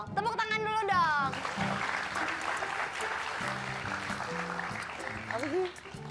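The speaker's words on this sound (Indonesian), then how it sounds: "Tepuk tangan dulu dong." Studio audience applause on the Indonesian TV talk show Hitam Putih, a sustained clapping wash with cheering and music over it, and voices talking through parts of it.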